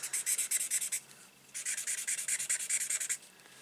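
A worn pen nib scratches across card during papercraft, making quick rhythmic strokes in two close bursts separated by a brief pause, with no voices.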